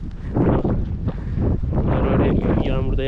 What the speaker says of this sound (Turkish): Şöyle rüzgar geliyor. O yüzden rüzgar sesiyle de sizi şey yapmak istemiyorum.